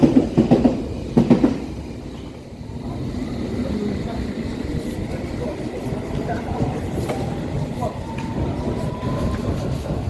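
London Underground Piccadilly line train running through a station without stopping, a rumbling roar of wheels and carriages with a rising whine, loud and close, following a few brief knocks at the start.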